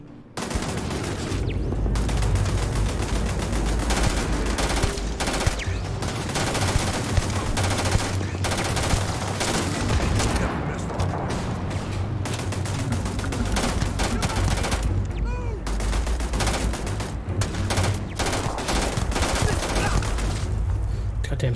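Sustained sniper and automatic gunfire in a Starfield firefight, dense overlapping shots and bursts at steady loud volume for the full stretch, with voices speaking briefly beneath the shooting.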